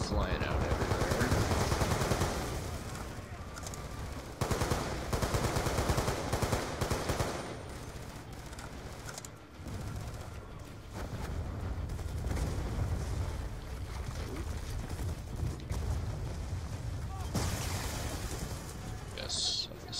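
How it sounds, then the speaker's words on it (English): Steady gunfire and rocket blasts from the Black Ops 2 campaign, with dense machine-gun bursts and booming launches rolling on continuously and loudly, briefly pausing between volleys, while someone talks over the action. "All these freaking rockets flying out everywhere."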